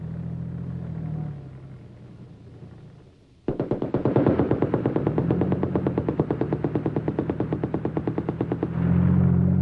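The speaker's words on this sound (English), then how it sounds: "Originally, the coaxial machine gun served as a rangefinder for the main gun, but today a laser is used." A tank's coaxial machine gun opens fire after a low engine rumble, unleashing a long, rapid, evenly spaced burst of shots that carries on for several seconds, loud and echoing.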